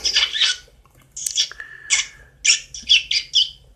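Greg, a pet bird, squawks and chirps in a string of close, sharp, bright bursts separated by short pauses, with one thin whistled note in between.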